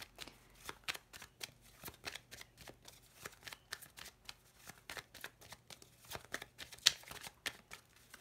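Lenormand cards shuffled by hand in a fortune-telling reading, a soft, quick, continuous flutter of card riffles close to the microphone.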